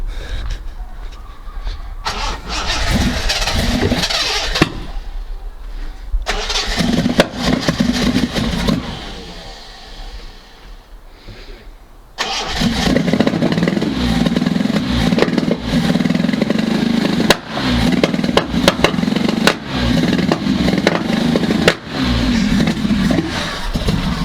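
Reliant Scimitar engine cranking, catching and revving unevenly as if not firing on all cylinders, loud and close, with a quieter pause midway before the engine bursts back into rough running.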